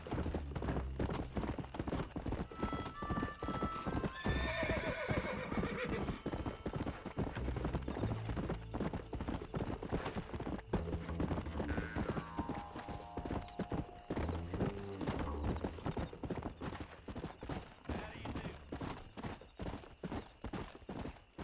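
Hoofbeats of a galloping horse in Red Dead Redemption, a steady rapid clip-clop running throughout at close range, with an occasional whinny and a few other game sounds layered over it.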